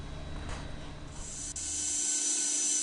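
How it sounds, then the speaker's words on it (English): A Rotaflex rotary cutter slices through an eggshell, giving a steady high-pitched whine and hiss that builds toward the end, close and loud with no talking. "I am using a Rotaflex to cut my egg"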